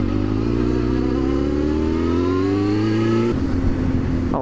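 A motorcycle riding along, its engine droning loud and close as the pitch climbs steadily, then drops sharply at a gear change before it starts rising again. No one speaks.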